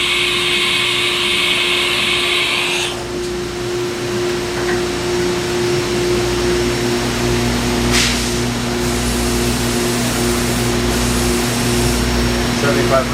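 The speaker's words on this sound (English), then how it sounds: "You gonna ramp up the spindle?" A Haas VF-2 CNC vertical mill spindle hums with a steady mechanical whine and broadband machine noise, holding an even level throughout, with a faint tonal shift partway through.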